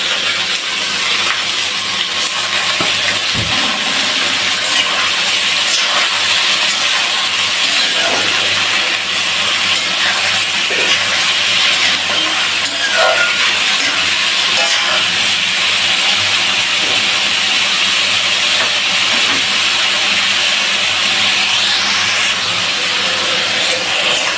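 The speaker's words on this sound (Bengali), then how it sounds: "এবার তেলের উপরে ভেজে নেব এই পেঁয়াজের সঙ্গে।" Beef liver, first parboiled, fries in hot oil with onions, giving a steady, close broadband sizzle and hiss that holds for the whole stretch with small crackles and pops, no voices.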